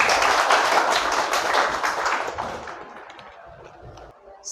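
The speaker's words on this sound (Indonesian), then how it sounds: "tepuk tangan untuk Mbak Naswa" A classroom of students claps for a classmate, dense applause starting strong, then thinning and fading to a few scattered claps near the end.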